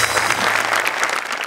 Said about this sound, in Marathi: दोघांसाठी मी उभा राहून टाळ्या वाजवतो